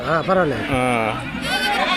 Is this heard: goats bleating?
yes